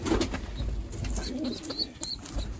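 Low, soft cooing rises from pigeons in a loft where young birds are being ringed, with scattered small clicks and rustles over a constant low hum, close by.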